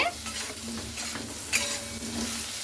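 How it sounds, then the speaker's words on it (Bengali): Salt and turmeric powder being stirred into frying ingredients in a pan, a soft continuous sizzle with light scraping strokes and an occasional clink of utensil on metal. "লবণ আর হলুদের গুঁড়াটা দিয়ে খুব ভালো করে এভাবে আমি নাড়াচাড়া করে নিচ্ছি"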